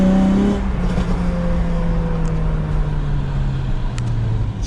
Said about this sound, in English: It's really making the stock exhaust is like muffling out all the pops